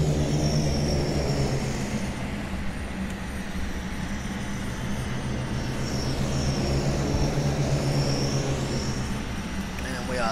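C-130 Hercules touching down in the Captain Sim flight simulator game, a steady loud engine roar with propeller drone running continuously, while a voice talks over it.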